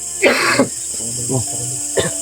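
An elderly man coughs a few times nearby, a short harsh burst followed by smaller hacking coughs and a final brief cough, with quiet background hiss.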